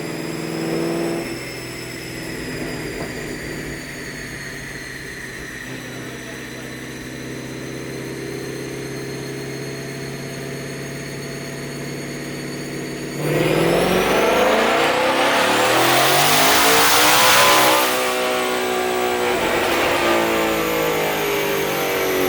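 A twin-turbo Ford Mustang S650 with its stock intake manifold runs on a dyno, droning steadily before roaring into a loud, rising full-throttle pull for several seconds, then backing off.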